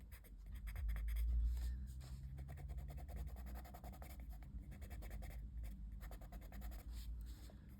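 Coloured pencil scratches firmly across paper under hard pressure in quick back-and-forth strokes, close and fairly quiet, with a low hum underneath.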